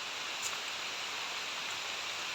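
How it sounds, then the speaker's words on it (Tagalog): Heavy rain falls outdoors near a tree as a constant, even roar of broadband hiss with no breaks and no talking. "Grabe ang ulan, aba."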